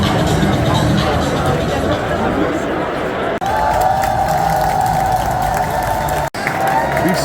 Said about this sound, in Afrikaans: Die skare die raak mal.